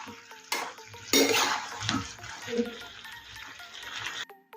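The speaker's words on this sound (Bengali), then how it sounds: "চিকেন পকোড়াগুলো বা চিকেনের পিসগুলো গ্রেভির সাথে মিশিয়ে নেব।" Chicken pieces stirred into chilli chicken gravy in a pan: close clinks and scrapes of a spoon against metal, with wet sloshing and sizzling, over steady background music.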